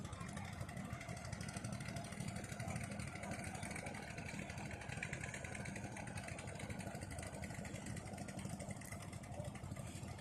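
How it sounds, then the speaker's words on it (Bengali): Several wooden boats travel together along a clear river in Itna, Kishoreganj, their motors producing a steady, low chugging drone that continues without pause at moderate distance. "একসাথে 4-5টা নৌকা যাচ্ছে।"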